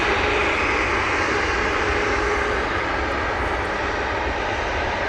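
Loud, steady roar of a KLM airliner's engines at Manchester Airport, a continuous broadband rumble held close for several seconds with no talk.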